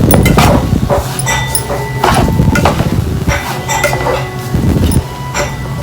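Semolina (rava) is fried with onions in oil in a kitchen pan, with repeated sharp metal clinks and scraping from the utensil against the pan.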